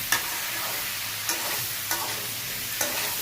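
Papaya and other vegetables sautéed with spices in oil in a pan for a vegetarian curry: a continuous close sizzle punctuated by a few sharp spatula scrapes and knocks against the pan, with no talking.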